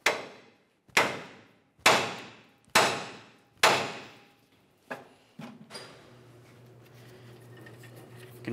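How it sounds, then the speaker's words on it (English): Five sharp metallic hammer blows on a front suspension knuckle of a 1994-2002 Dodge Ram 2500, evenly spaced and ringing briefly, followed by a couple of lighter knocks and a low mechanical hum. "We'll continue on with a hammer, and we're going to give this a couple loving bonks"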